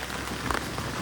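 Heavy rain pours down steadily outdoors in a hilly fort area near a valley, a dense, even hiss of drops striking surfaces with no voices.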